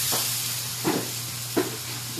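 Battered chicken for Chicken Kurkure fries in a pan of oil, a steady, close hiss and sizzle with a few brief louder bursts as pieces go in, no voices over it.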